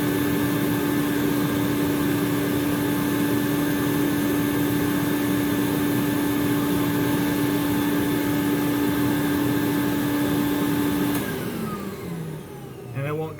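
A Thermax AF120 cleaning machine runs with a loud, steady motor whine and drone, then spins down near the end as the tone drops away and a few clicks follow.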